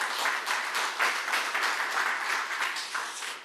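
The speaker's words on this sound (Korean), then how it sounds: "있는 것 같으면 박수 한번 쳐주십시오" An audience at a lecture on AI investment at the Korean National Assembly claps, a steady, dense wash of applause from many hands, lasting throughout without voices standing out.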